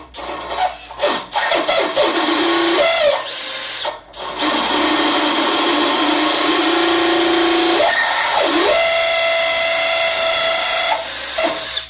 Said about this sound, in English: This drill is just not probably meant for this.